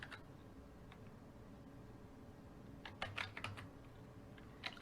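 Quiet typing on a computer keyboard, a light steady patter that breaks into a short burst of quicker, crisper keystrokes and one final tap, no talking.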